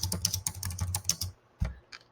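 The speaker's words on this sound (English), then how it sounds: "Or you can just start typing there and type in your text." Quick keystrokes on a computer keyboard tap out a burst of text in an uneven clatter, stop briefly, then one more key press follows, close and fairly soft.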